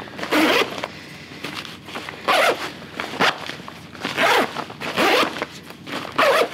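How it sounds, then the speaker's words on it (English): A drysuit zipper is run back and forth several times, giving repeated loud rasping zips in bursts with short pauses between them and no talking. "now, you just run your zipper through a few times"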